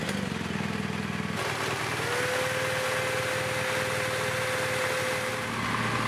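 A BMW R1200GS motorcycle engine runs at a steady idle, close and fairly quiet, with a faint rising whine appearing partway through.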